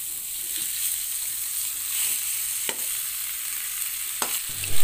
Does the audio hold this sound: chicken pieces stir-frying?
yes